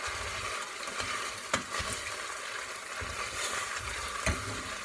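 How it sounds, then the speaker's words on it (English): Pasta being stirred with butter and sunflower oil in a pan, a soft continuous sizzle with a few sharp scraping clicks from the utensil, close and fairly quiet, no talk. "now we can mix up with the butter and the sunflower oil"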